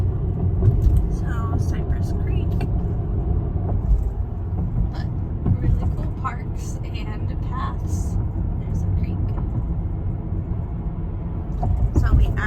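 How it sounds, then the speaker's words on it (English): A car drives along a suburban road and overtakes another vehicle, with steady low tyre and engine rumble throughout while a person talks over it from inside the cabin. "I'm going to pass this car."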